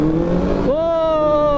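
A Benelli TNT600i motorcycle engine with stock exhaust revs loudly and close, its steady harmonic tone rising and settling at a higher pitch partway through, with voices talking over it.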